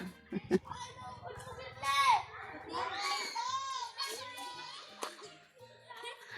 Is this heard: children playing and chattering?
yes